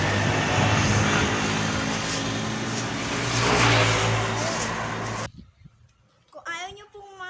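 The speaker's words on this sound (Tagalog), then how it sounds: "Ayan po, guys, yung highway. Dahil pong dumadaan na sasakyan." Traffic on a highway near a church parish, a steady loud wash of passing cars with one rising engine swell, cut off abruptly partway through, followed by a voice speaking.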